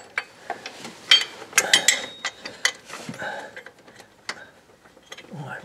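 Socket wrench with an extension ratcheting on a bolt while replacing the serpentine belt tensioner on a 2006 Honda Ridgeline 3.5L, giving irregular bursts of quick clicks up close, with brief talk mixed in.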